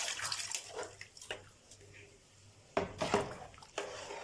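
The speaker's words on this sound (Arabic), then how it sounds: "هنا كده بقى هضيف له الميه، انا معايراها." Water is poured into a pot of Egyptian rice for Alexandrian koshary, making faint splashing and trickling in short bursts against a quiet kitchen background.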